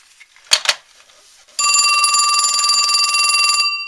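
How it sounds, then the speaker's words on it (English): A Western Electric Trimline Director executive telephone, refurbished, rings loudly and continuously with a bright metallic bell for about two seconds, after a couple of brief handling clunks. "would you call the house back and see if this phone rings?"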